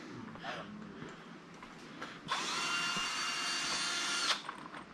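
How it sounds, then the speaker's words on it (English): A hammer drill bores during plumbing work, its loud steady grinding whine starting abruptly about midway and running for around two seconds before cutting off, after quieter handling noise and faint movement. "we're going to hammer drill that shit"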